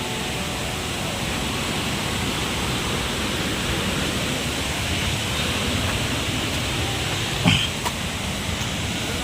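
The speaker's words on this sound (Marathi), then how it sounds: "धबधब्याचा आवाज बघू शकता" Savatkada waterfall in the Konkan near Rajapur roars as a dense, constant rushing wash of falling water, loud and unbroken throughout, with one brief knock near the end.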